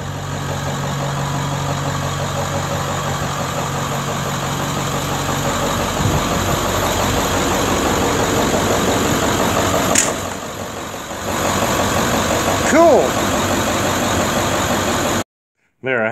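A school bus converted into a skoolie sits with its engine idling, a loud, steady, unbroken rumble that holds for about fifteen seconds before cutting off abruptly near the end.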